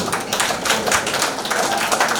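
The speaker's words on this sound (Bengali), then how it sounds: "সবার তরফ থেকে হাততালি চাই অপূর্ব ভাইয়ের জন্য" An audience claps at a speech event, a dense, steady patter of many hands at close range lasting a couple of seconds.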